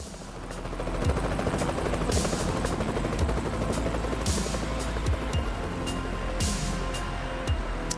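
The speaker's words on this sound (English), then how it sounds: "Oh, that helicopter's gonna go through it." A helicopter in the American Truck Simulator video game flies over St. Louis near the Gateway Arch, its steady rotor chop loud and continuous throughout with no talk.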